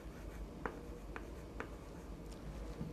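Chalk or marker writing on a classroom board during a physics lesson on average velocity, a few short scratchy strokes standing out clearly against a steady room hum, with no talking.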